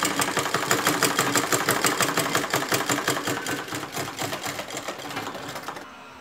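A sewing machine stitches the side seams of a chemise, producing a loud, close, fast rhythmic clatter that holds steady before slowing into distinct pulsing beats and stopping, with no talking.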